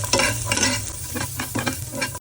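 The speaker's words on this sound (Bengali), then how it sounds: "পেঁয়াজ আর রসুন মিক্স করে আমরা প্রথমে এটা ভেজে নিব ভালো করে" Loud sizzling and crackling from onion and garlic frying in a pan, with scraping stirs in bursts and no voices.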